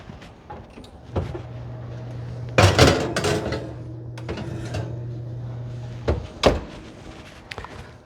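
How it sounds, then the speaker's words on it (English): Oven door swung open and shut while a tray of sausage stuffing goes in to bake, with clanking bangs and a metallic thud around the middle and a sharper knock near the end over a steady low hum. "Let's put it into the oven."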